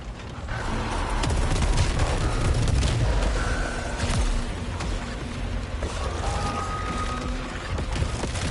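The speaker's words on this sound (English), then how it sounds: "I might like this gun, to be honest. The Eruptor hand cannon." Repeated heavy gunfire from the Eruptor hand cannon in the video game Saros, a dense, loud volley of booming shots and impacts that runs throughout with no talking.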